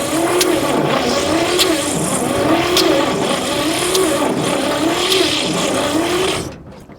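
An old 1959 Chevy pickup, abandoned for decades, has its engine cranked and running roughly, a loud steady motor drone with rhythmic pulsing surges that falls away near the end.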